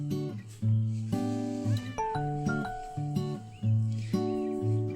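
A cat meowing repeatedly, a string of loud, close, drawn-out meows with wavering pitch and a few caterwaul-like whines, separated by short gaps.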